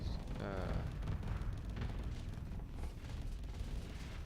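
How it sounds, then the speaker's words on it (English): Torpedo explosions in the Starsector space combat game blend into a dense, continuous rumbling roar of booms and bursts that persists throughout. "Torpedoes."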